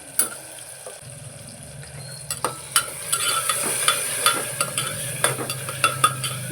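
Ginger garlic paste frying with onion and tomato for masala khichdi, a soft sizzle under repeated spoon scrapes and taps against the pan in an uneven rhythm.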